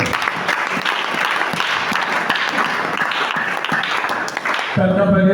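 A church congregation claps and cheers in praise, producing dense, continuous applause that stays loud and steady throughout, with voices mixed into the crowd noise.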